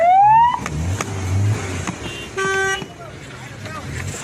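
Street traffic from a crowd of vehicles at a political arrest, with car horns tooting in short bursts and a siren wailing briefly at the start, all beneath continuous background noise.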